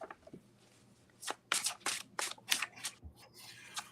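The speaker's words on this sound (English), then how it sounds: "Make Playing Cards have this eco cardstock that I used for the Galaxy RWS. It is so nice to shuffle." Eco cardstock playing cards from Make Playing Cards riffle-shuffled in several quick bursts, crisp and close, with short pauses between shuffles.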